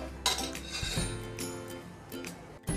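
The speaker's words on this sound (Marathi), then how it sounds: "गुळाचं पातेल आता कुकरमधून मी काढून घेतलेलं आहे" A pot of melted jaggery is lifted out of a pressure cooker, giving a few close metallic clinks and scrapes of steel against steel in a quiet kitchen.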